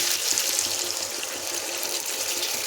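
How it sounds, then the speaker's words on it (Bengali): A little water poured into a pan of frying ridge gourd gives a close, steady hiss and bubbling rush that holds evenly through the short stretch. "এখন এর মধ্যে অল্প একটু জল দিয়ে দিচ্ছি"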